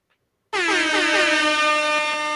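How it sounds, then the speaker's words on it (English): Blaring air horn on a horse racing show, one long loud continuous blast that starts abruptly after a short silence and holds steady to the end, with no talk over it. "I haven't used the air horn in a while."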